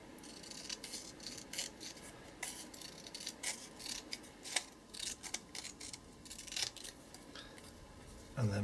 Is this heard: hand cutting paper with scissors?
yes